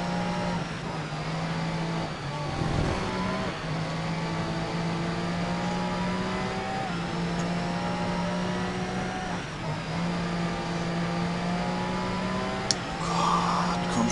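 A race car drives laps at Le Mans in the Grid racing game, its engine a steady, droning tone with shifts in pitch as it brakes and accelerates. Someone talks quietly underneath.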